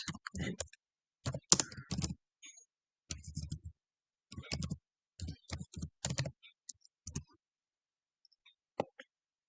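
Typing on a computer keyboard in short irregular bursts of close clicking keystrokes separated by pauses, faint and alone with no talk.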